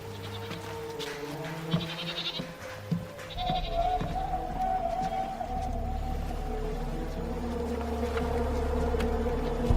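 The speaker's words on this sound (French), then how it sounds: "La chèvre a dû s'échapper." A goat bleats in a quiet outdoor setting at night, a few faint calls over a steady droning background with insect-like buzzing, fairly distant and without speech.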